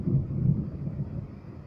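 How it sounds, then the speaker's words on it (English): Low rolling thunder rumbles through a rainstorm, a continuous muffled growl with a faint wash of rain over the whole short stretch, no voices. "Yes, it's thundering, and yes, it's raining."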